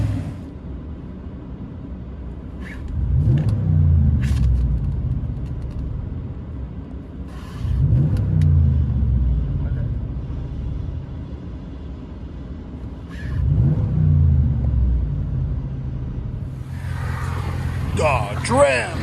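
Cabin sound of a 2020 Ram 1500 with a 5.7L Hemi V8 and Flowmaster 40 Series dual exhaust with 5-inch tips: a steady low engine rumble swelling into three revving surges, muffled from inside the truck.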